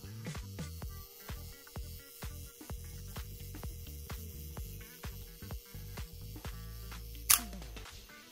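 A Nikon FE2 film camera's self-timer runs with a quick train of regular mechanical ticks, close up, ending in a sharp shutter release near the end.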